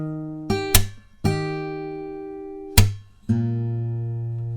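A guitar plays a picking pattern from a song: clear plucked notes ring out, punctuated by several sharp muted slaps, heard alone and up close.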